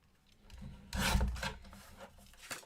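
A paper trimmer slices through a card Christmas tag, giving a short, close scraping rasp that builds to a louder pass midway and ends with a final brief stroke.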